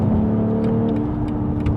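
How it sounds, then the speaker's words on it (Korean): A BMW X4 M40i SUV hums steadily from inside the cabin, its engine and performance exhaust giving a continuous low drone that stays loud and even throughout, with no talk. "이런 소리 이런 엔진음 이런 퍼포 배기음 다 갖고 있으니까 대단한 차네"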